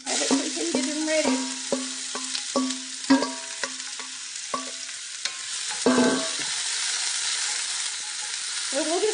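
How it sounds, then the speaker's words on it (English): Vegetables sautéing in preheated oil in a pan for cornbread dressing fritters: soft sizzle under repeated sharp spatula scrapes and taps in an uneven rhythm, close and clear, no talking. "So we'll just saute these right quick, get them a little bit soft"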